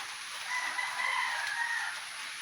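A rooster crows once at moderate distance, a drawn-out call rising over steady outdoor background hiss, with no talking.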